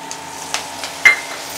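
Curry leaves fry in a pan for tomato chutney, a soft steady sizzle close by broken by a few sharp crackles and one louder pop, with no voices.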